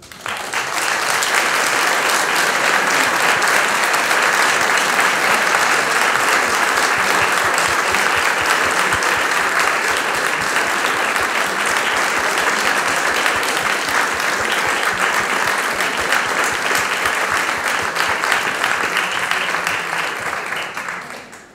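Sustained, dense applause from an audience inside Christ Church Cathedral, loud and even for about twenty seconds with reverberant room ambience and no voices, tapering off only at the very end.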